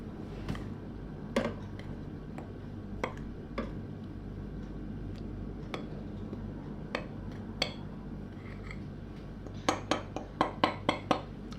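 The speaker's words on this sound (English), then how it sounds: "And then just use a spoon to mix it all together." A spoon stirs baking powder and flour in a bowl for brownies, giving faint scattered clinks and ticks against the bowl that quicken into a run of sharper taps near the end.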